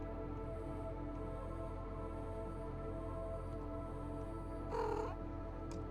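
A kitten lets out a single short cry near the end, standing out briefly over a quiet, steady background hum with no talking.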